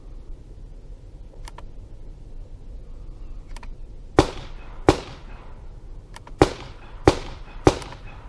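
A Smith & Wesson Model 640 Magnum Centennial revolver fires a string of five sharp, loud shots at irregular intervals, with fainter distant pops from other shooters earlier and in between.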